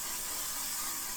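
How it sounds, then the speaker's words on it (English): Cooking oil sprayed from a can onto homemade bun dough: one continuous close hiss lasting about a second, with no talk. "Give it a little spray on top."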